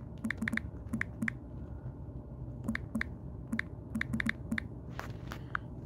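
Rapid clusters of crisp keystrokes tap on a computer keyboard, coming in short bursts with brief pauses between them, close and fairly quiet.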